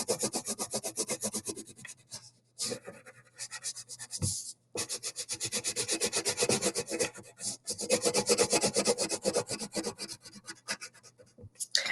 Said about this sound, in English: So color inside your pumpkins.